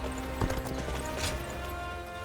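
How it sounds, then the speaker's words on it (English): Rhythmic horse hooves clip-clop while riding in Dynasty Warriors Origins, a quiet, steady galloping patter alone with no talking over it. "I'm riding his horse currently."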